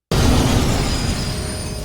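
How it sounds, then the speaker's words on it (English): A burning train crashes and explodes in a zombie film, a sudden loud roaring blast that hits at once and keeps rumbling densely for under two seconds, with no talk. "A burning train crashes into their path, causing an explosion."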